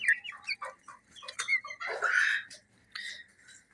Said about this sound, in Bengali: এখানে আমার ব্রাহ্মা মুরগি আছে